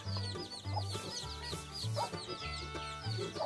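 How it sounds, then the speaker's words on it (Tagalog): Clucking and cheeping from a small flock of free-range chickens beside newly hatched chicks, steady close bird calls over a low hum, with no speech. "ito na yung bagong pisa ko na sisiyo"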